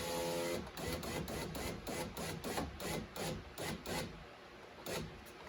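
A car's power window motor whirs in short repeated bursts as the window is raised during bodywork, close and fairly quiet.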